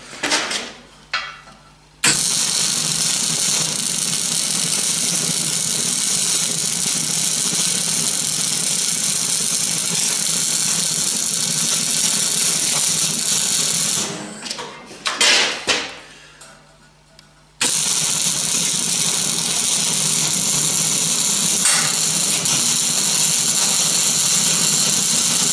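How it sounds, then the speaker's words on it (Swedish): Metal welding while building a homemade roll bender: a loud, steady crackling buzz runs continuously, broken by two short pauses with brief clicks and knocks between the welding runs, up close and without talking. "Svetsar man här nu direkt."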